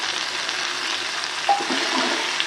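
Ginger and tomato frying in a pan, giving a steady, close sizzle with a brief scrape of stirring midway and no talk.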